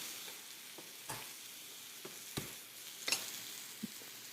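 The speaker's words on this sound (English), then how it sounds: "a couple of garlic cloves. Let's get those in." Three garlic cloves dropped into a hot frying pan for a Spanish chicken and chorizo stew with red wine, giving a quiet steady sizzle broken by a few sharp stirring clicks and pops.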